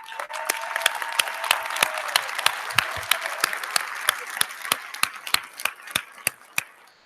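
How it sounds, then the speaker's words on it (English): Audience applause at a university law school hooding ceremony, a loud dense crowd clapping that thins out toward the end, leaving a few distinct individual claps, with faint voices mixed in. "let's give our service award winners a round of applause"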